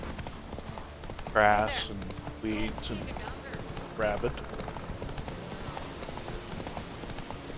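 Horse hooves clip-clop in The Witcher 3, a steady soft patter running under the game's ambient bed while someone talks over it.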